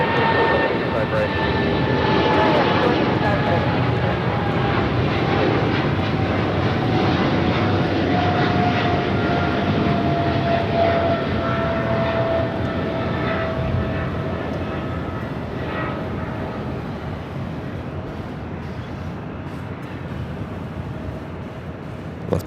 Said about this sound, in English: We do have that China Airlines Cargo 777 freighter rolling down the 25 at right.